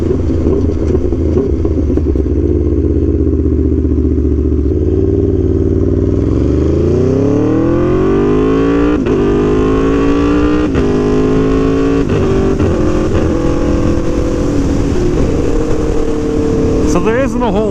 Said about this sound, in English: You enable cruise control, you set it at a speed, and the bike takes care of the rest.